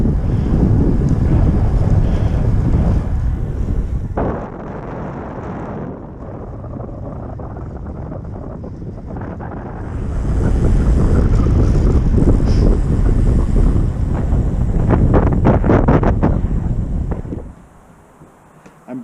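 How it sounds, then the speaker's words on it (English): Heavy wind buffets the microphone while cycling into a strong headwind in an Abus Airbreaker helmet, a loud roaring rush that eases midway, swells again, then cuts off near the end. "Got a wicked headwind coming back, and all that air went right through this helmet."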